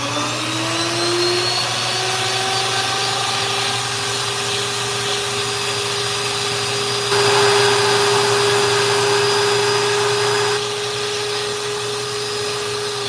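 A Dremel rotary tool with a burr carves a small wood eagle, giving a steady high-pitched whine that spins up at the start and grows louder under heavier load midway.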